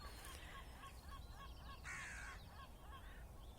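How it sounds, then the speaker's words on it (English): Gulls cry out faintly in the distance, several short calls and one longer wail drifting over a steady low background hum. "I hope you heard the seagulls crying there."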